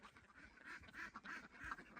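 Ducks quacking in a steady, overlapping chorus at moderate distance, with repeated nasal calls throughout.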